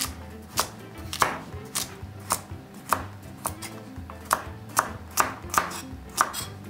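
A knife chops carrots on a cutting board, a series of sharp, uneven thuds at a relaxed pace, close and clear.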